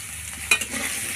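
Potatoes and carrots fry in mustard oil with five-spice tempering, a short close sizzle broken by two quick stirring scrapes.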